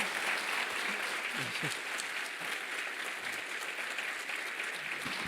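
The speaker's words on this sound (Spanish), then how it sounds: "Aplausos, por favor." Sustained applause from an audience at a medal presentation during a summit speech, steady dense clapping throughout with some faint voices underneath.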